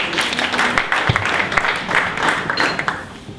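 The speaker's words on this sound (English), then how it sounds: "How about a round of applause for everybody again?" An audience at an investor relations event honouring veterans gives a round of applause, a thick, even wash of clapping hands that continues throughout.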